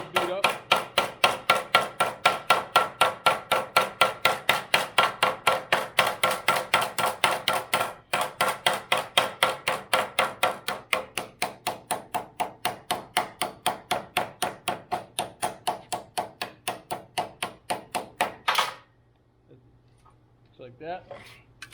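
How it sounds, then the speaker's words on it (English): A hammer peens the end of a metal rod with fast, steady, evenly spaced strikes for about eighteen seconds, close and loud, before stopping abruptly. "Then just peen the end so it looks a little beat up."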